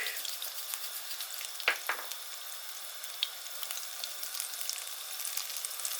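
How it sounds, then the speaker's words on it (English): Chillies frying in a pan before prawns are added for a seafood dish, with a soft, steady sizzle throughout and one or two brief stirring clatters early on, no talk. "So now the chilies have started to cook."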